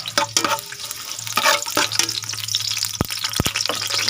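Garlic frying in a clay pot (palayok) makes a bright, crackling sizzle with bursts of spatter and a few sharp scraping knocks, loud and close with no talking.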